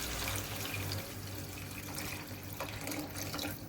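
Water pouring steadily into a cooking pan for egg kofta curry, a continuous close splashing stream with no talk.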